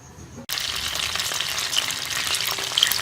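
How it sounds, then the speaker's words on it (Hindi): Onion, garlic and ginger paste sautés in hot oil in a karahi, and a steady, loud sizzle starts abruptly after a quiet moment and continues with faint stirring clicks. "इसके अंदर ये प्याज लहसुन अदरक का पेस्ट हम एक ही दफ़ा डाल देंगे। तीनों चीज़ें इसको हम ऐसा सौते कर लेंगे।"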